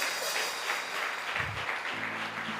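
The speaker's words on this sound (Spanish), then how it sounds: "Denle un aplauso al Señor porque Dios está aquí con nosotros." A church congregation applauds the Lord, giving a continuous, moderately loud patter of many hands clapping together with a low murmur beneath.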